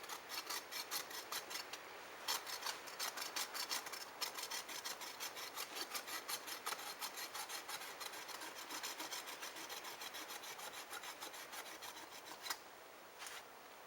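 A small tree is scraped to make a fake deer rub, a steady, close rhythmic rasping of wood and bark in rapid repeated strokes that continues without pause and without talking.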